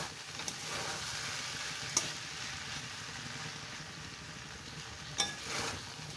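Oats upma with capsicum simmers and sizzles quietly in a pan, with a couple of sharp scraping stirs standing out above the soft, constant frying hiss.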